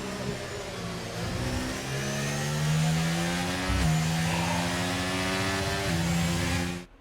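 F1 car engine in the F1 23 racing game, a steady mid-pitched drone with gear shifts shown as pitch steps, rising and falling as the car cruises, loud and continuous with no talk.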